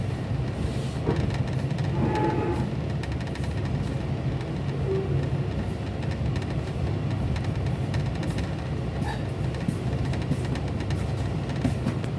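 Ciremai passenger train arriving at Bandung station, heard from inside: a steady low rumble of the moving carriages with faint rattles and clicks, continuous and moderately loud, no voices.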